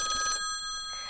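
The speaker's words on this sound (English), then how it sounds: "That's the phone." A telephone bell rings in a short burst with a sustained harmonic tone, the ringing stopping partway through and leaving a quiet room.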